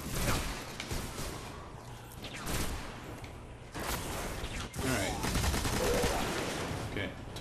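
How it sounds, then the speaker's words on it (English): Heavy machine gun firing in Destiny on PS4 during a Mars mission, heard as dense rapid bursts of loud gunfire with whooshes and mechanical clatter, while a player talks over it. "I guess we gotta pull our heavy machine gun"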